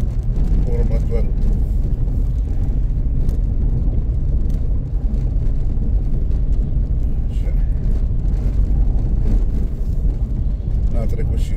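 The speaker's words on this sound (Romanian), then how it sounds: "A trecut și mașina de pâine și microbuzul școlar." A bread delivery van and a school minibus pass along a village road near a beekeeper's apiary, their engines a steady rumble heard beneath continuous nearby talking.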